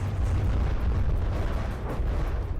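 Continuous heavy cannon broadsides from wooden warships in the naval combat game From the Depths, a dense rolling rumble of overlapping booms that fills the whole stretch without pause.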